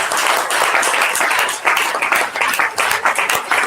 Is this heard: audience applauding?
yes